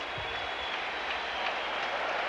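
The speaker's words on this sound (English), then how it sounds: "that certainly brought the crowd here to their feet as Pete Rose leaves the ball game after a pinch hit" A baseball stadium crowd at a 1986 Mets at Reds game cheers and applauds steadily as a dense, continuous roar of clapping and voices, with a broadcast announcer talking faintly beneath it.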